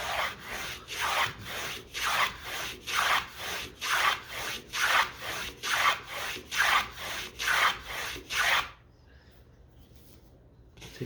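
Knife shaving bevels off a wooden blank for whittling, about a dozen evenly spaced rasping strokes up close, then stopping to near silence.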